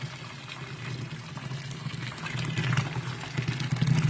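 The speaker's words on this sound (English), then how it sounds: "I'm just going to pour some pre-boiled water straight over the top of it." Pre-boiled water poured over mashed grain in a brew-in-a-bag setup for a Belgian witbier, a steady splashing trickle that grows slightly louder toward the end, with a low hum beneath.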